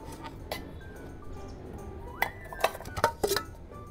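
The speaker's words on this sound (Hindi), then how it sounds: "ठीक है, ये 4 बर्तन हैं।" Metal cooking pots clank and clink against one another as they are handled for packing, a quick run of sharp, close knocks that bunch together toward the end, heard alone without talk.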